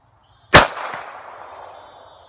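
A single loud, sharp gunshot from a handgun, either a Glock 19 9mm or an S&W M&P Bodyguard .380, rings out at an outdoor shooting range. It is close and stands alone, with a short ringing decay and no talk.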